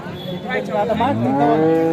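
A cow moos loudly and close by at a cattle market, one long drawn-out low call lasting about a second and a half.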